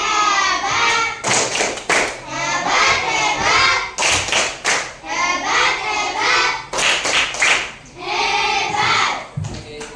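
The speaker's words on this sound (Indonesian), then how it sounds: "Oke, kita kasih tepuk hebat." A classroom of students claps hands in several short, loud bursts separated by brief pauses, with a teacher's and children's voices speaking between the rounds.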